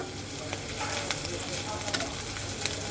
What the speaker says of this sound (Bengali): আদাটাকে আমি কয়েক মিনিট ভেজে নেব